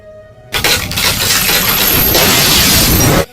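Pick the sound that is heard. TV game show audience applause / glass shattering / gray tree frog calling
glass shattering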